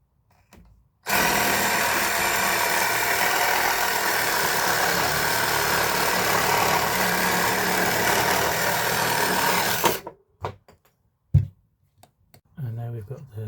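A reciprocating saw fitted with an 8-inch construction timber blade runs at high speed, a loud buzzing, rattling drone that starts abruptly and continues for about nine seconds, then stops, leaving scattered knocks and handling noises.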